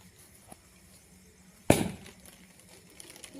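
A Diwali firecracker bomb goes off once as a single sharp bang, followed by a short crackling decay. It stands out against a quiet outdoor background with a faint click beforehand.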